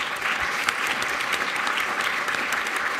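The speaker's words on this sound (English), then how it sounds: "Let's give everybody a round of applause one more time." Audience applause after a climate and air pollution talk and discussion: sustained, even clapping from a sizeable crowd, moderately loud and continuous throughout, with no speech over it.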